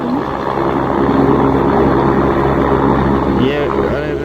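Helicopter lifting off from the helipad at Kedarnath in the Himalayas, a loud steady rotor and turbine roar that holds through the whole stretch with a rising whine near the end, and people talk over it.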